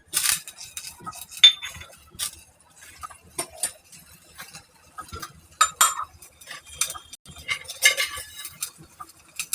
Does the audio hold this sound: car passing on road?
no